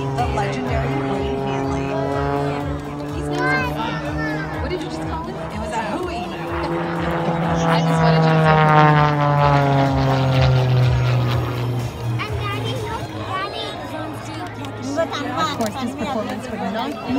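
A propeller aerobatic airplane performs a tumbling maneuver at an air show, its engine droning and rising and falling in pitch over about seventeen seconds, with an announcer talking over it and crowd chatter behind.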